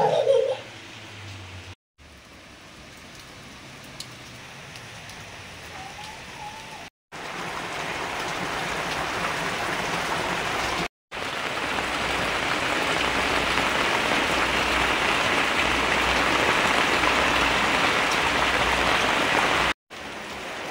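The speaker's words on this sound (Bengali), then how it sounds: "আজকে মুষলধারে বৃষ্টি হচ্ছে, প্রচুর বৃষ্টি হচ্ছে" Heavy monsoon downpour on a rainy day, a dense continuous roar of rain broken by a few brief cuts, with faint voices early on and the rain growing fuller toward the end.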